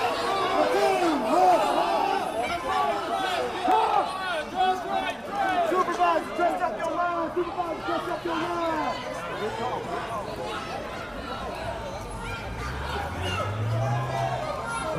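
A crowd of protesters mills outside a police line, a steady blur of overlapping voices and chatter with a low rumble rising near the end.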